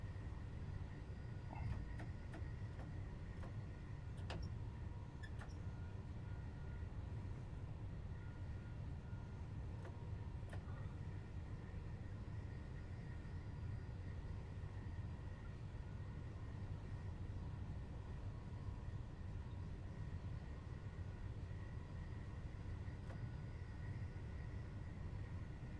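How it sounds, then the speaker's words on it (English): A modern train in the video game Train Sim World 3 runs with a steady, low rumbling drone and faint tonal hum, a few light clicks and clunks scattered over a quiet, even background. "It's a nice little train, though."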